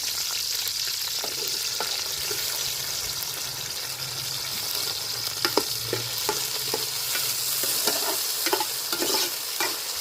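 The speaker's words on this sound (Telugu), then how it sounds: "అట్లే టమాటా పండ్లు కూడా వేసుకుందామండి" Tomatoes sizzling and being stirred in a hot pan, a steady bright hiss with scattered scraping clicks of the spoon, moderately close and with no talking.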